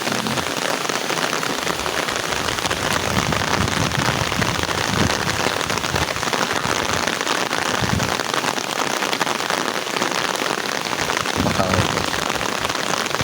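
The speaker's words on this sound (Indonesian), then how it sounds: "Hujan asik di pagi hari." Heavy, steady morning rain pours down on a surface in rural Majalengka, West Java, a dense continuous hiss of drops close by with no talking.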